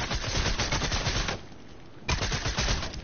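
Rapid automatic gunfire in a video game, dense continuous bursts of shots with a brief lull in the middle, loud and close, with no talk.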